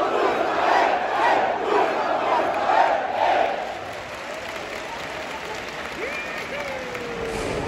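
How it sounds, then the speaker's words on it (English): Football supporters of Rapid roar and chant pregame inside a brand new stadium, a dense, loud crowd swell with rhythmic surges that ease into a steadier murmur of cheering toward the end. "we're already cheering and it's still pregame"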